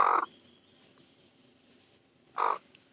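A broody hen gives two short, loud clucking calls about two seconds apart, with near silence between them.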